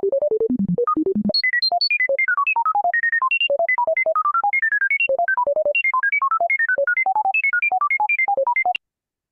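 Serum synth patch with Warp engaged and sample-and-hold modulating pitch, a rapid stream of short bright bleeps jumping randomly between notes in a steady fast rhythm, loud and alone before cutting off abruptly.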